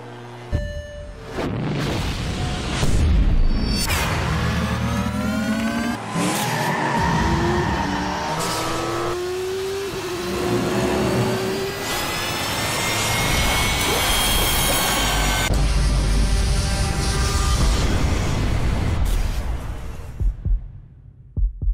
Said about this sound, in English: just look at all these race car wheels and jet engines and all these things that are super duper fast